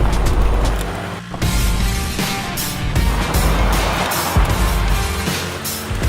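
A 2018 Ford Ranger pickup truck reverses up a slope, its engine a steady, loud low rumble with rough mechanical clatter and crunching surface noise throughout, no voices.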